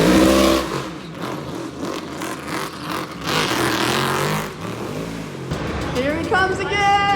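A Porsche GT3's exhaust roars and revs as it passes at a downtown Minneapolis street showrun, rising and falling in loudness, with excited voices talking over it.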